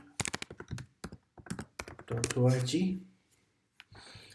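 Typing on a computer keyboard during a Gradle install on macOS: quick bursts of close, light key clicks, separated by short pauses, with a person talking over part of it.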